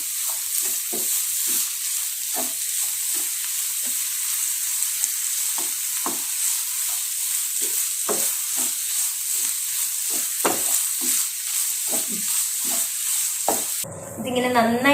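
Jaggery melting in a pan and stirred for kozhukatta filling, a steady sizzle and hiss with repeated scraping strokes of the spoon at an even rhythm, close and fairly loud.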